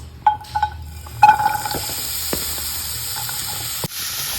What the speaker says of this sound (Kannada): ಚೆನ್ನಾಗಿ ಹೀಗೆ ಹೀಗೆ ಮಾಡಿ ಫ್ರೈ ಮಾಡಬೇಕು